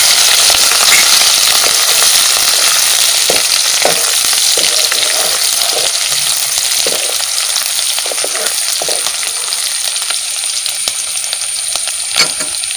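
Chopped green chilies going into hot oil with garlic, a loud continuous sizzle and crackle with occasional stirring clinks, close and steady throughout.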